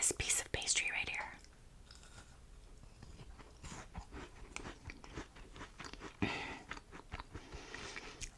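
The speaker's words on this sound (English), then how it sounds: "Let's eat this piece of pastry right here." Close, quiet chewing of flaky chicken pot pie pastry, with soft crunches and wet mouth sounds repeating irregularly, plus a few louder crisp bites at the start and near the end.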